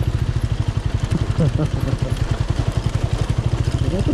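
A motorcycle engine on a motovlog ride thumps in a steady, rapid run of low pulses close to the microphone, with faint crackle riding over the rhythm.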